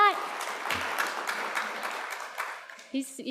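Audience applause in a conference hall during opening remarks at a health plenary, a steady wash of clapping across the whole clip with a voice speaking over it near the end.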